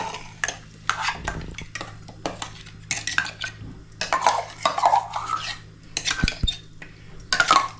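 A spoon stirs and scrapes against a metal pot as ground peas are mixed into a thick pea curry, with repeated clinks and scraping in short bursts, no talking.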